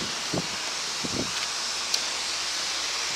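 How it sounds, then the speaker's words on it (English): Wind blows outdoors as a steady broad whoosh across the microphone, with a few soft buffeting thumps and rustles. "stupid wind!"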